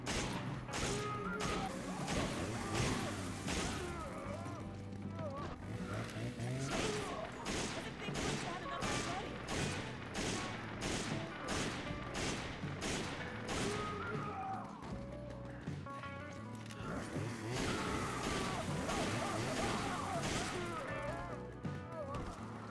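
Rapid rifle fire from SVD and PSG sniper rifles in Resident Evil 5 during a boss fight, a dense run of loud, quickly repeated shots over game music and effects.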